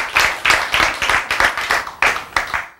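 Group of people clapping in unison during a church sermon, about ten loud, sharp rhythmic claps at a steady beat, close and clear, with no talking.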